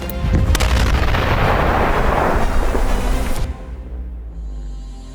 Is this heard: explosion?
yes